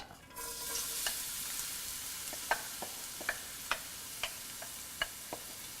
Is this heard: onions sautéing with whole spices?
yes